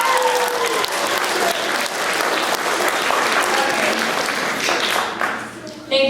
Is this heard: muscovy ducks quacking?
no